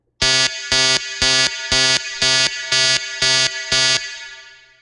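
An electronic alarm sound effect blares in eight evenly spaced, loud buzzing pulses, harsh and tonal, ending with a fading ring-out and no talking.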